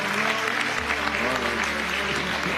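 A crowd at a Ramadan Quran recitation gathering applauds a young memorizer of the whole Quran, a dense, steady wash of clapping sustained throughout.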